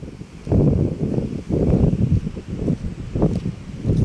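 Mountain wind gusts buffet the microphone in steady rumbling waves, loud and close, with faint rustling in the background.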